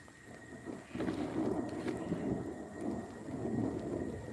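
Rain falls steadily outdoors over a freshly planted corn field as a low rumble of thunder rolls through, a broad continuous wash of sound swelling louder after the first second with no one speaking.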